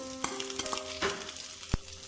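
Spices and ginger-garlic paste fry in a pan with a close, steady sizzle, broken by a few sharp clinks and scrapes of stirring.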